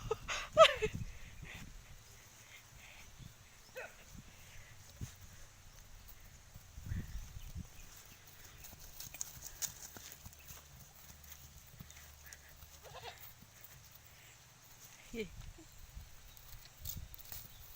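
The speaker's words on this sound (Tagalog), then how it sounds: "grabe yung kabayo, nagagalit na talaga" Slow clip-clop of horse hooves on a hard surface, a few scattered steps at a time, moderately near, with faint background noise in between.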